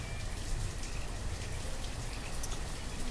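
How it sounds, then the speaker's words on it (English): Rain in the video game Banished, a steady broadband hiss with a low rumbling wash underneath, constant and fairly loud across the short stretch, without any speech. "It's raining again, of course."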